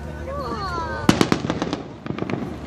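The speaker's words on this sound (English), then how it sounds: "can they see the fireworks?" Fireworks for the Fourth of July burst in a quick string of sharp, loud bangs, followed by a second, fainter volley, with people talking before and between the blasts.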